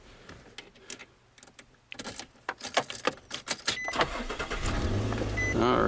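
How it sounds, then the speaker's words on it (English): A Nissan Xterra being started after an A/C resistor replacement: clicks and rattling handling sounds, then the engine cranks and settles into a steady idle that grows louder toward the end. "we're going to start the car back up and see if this works"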